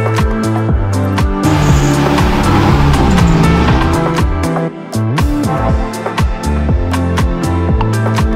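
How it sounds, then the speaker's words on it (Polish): Rally car on a special stage during shakedown at the Rajd Valasska 2022 event: engine revving hard and dropping through gear changes, with repeated rising and falling bursts and tire noise, loud and close. "Dzisiaj będziemy mieć pierwsze przejazdy na odcinku specjalnym naszym autem."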